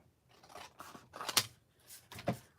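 Scissors snip around paper card-making pieces in a quiet room, a handful of separate soft cuts and rustles spread across a few seconds, close and faint.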